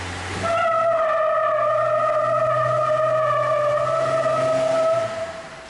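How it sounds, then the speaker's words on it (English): A car with big tires doing a burnout on a wet surface: a loud, sustained tonal tire squeal holding steady for about four and a half seconds with engine drone underneath, then cutting off. "am I gonna do a burnout?"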